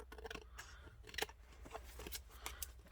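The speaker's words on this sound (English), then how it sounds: "Everything's wanting to stick to my scissors." Crisp snips of scissors cutting paper, a few quick cuts close by with small rustles between them, no talking.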